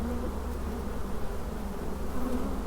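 Honey bees from a Ukrainian hive buzz steadily and close, a dense continuous drone with no talk over it.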